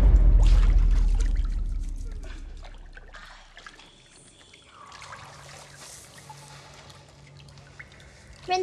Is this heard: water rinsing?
yes